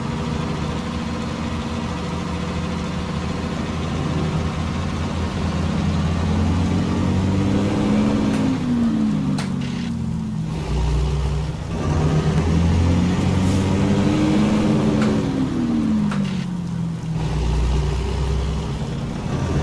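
A heavy Caterpillar C15 diesel truck engine in American Truck Simulator, engine brake off, rumbles steadily with the revs rising and falling in a couple of slow swells, loud and continuous.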